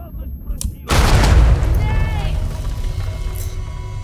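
A sudden deep boom from an explosion in Uncharted 4: A Thief's End, followed by a rumbling decay and faint debris sounds fading out.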